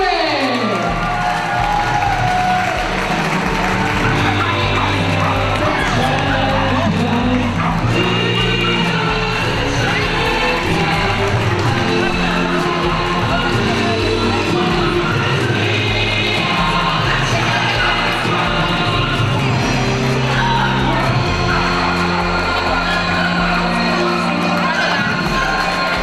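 A crowd at the 2011 Italian mongrel dog show claps and cheers loudly and continuously for the winning dog, with shouts and children's voices rising over music in the background.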